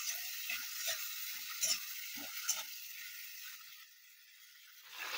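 Prawns frying in oil in a pan over a low gas flame: a steady, close hiss of sizzling runs with a few soft knocks, then quiets and swells again near the end.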